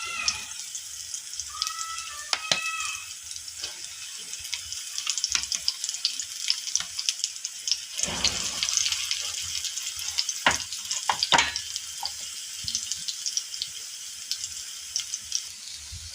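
Potato patties for ragda pattice fry in an oiled pan, sizzling under several sharp scraping and clattering utensil sounds, with brief water-like splashes and a faint high squeak early on; no speech.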